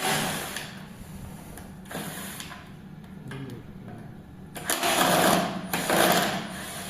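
Removing the head-panel screws on a Zelio X-Men+ electric bike with a whirring power screwdriver, heard as several short mechanical bursts of buzzing, the loudest two near the end, over faint room noise.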